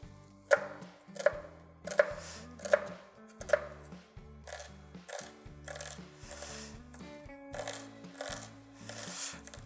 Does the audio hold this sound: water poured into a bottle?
no